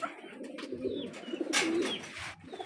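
Pigeons coo repeatedly at close range, their soft low calls rolling over one another, with a few faint chirps from smaller birds mixed in.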